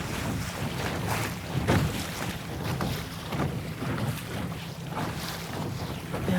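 A Sunfish sailboat crossing a lake under steady wind, with continuous rushing wind buffeting the microphone and soft water sloshing against the hull throughout.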